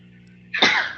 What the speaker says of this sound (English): Was that you sneezing?